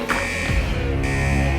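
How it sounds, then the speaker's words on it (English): A steady electronic buzzer drones loudly and continuously, a flat harsh tone that holds without pause. "That damn buzzer always gets me."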